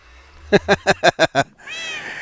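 A spooky-sounding Minecraft cat gives six quick, evenly spaced meows in a row, loud and close, followed by a short higher drawn-out cry.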